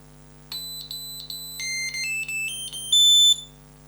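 Calibration beeps from an ISDT ESC70 electronic speed controller, a series of short high electronic tones stepping through different pitches, then a louder sustained beep, close and clean over a faint steady hum.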